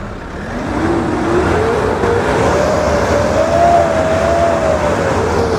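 Delivery truck engine revving during an exhaust check, a loud close drone climbing steadily in pitch as the revs rise and then holding high, with no talk over it.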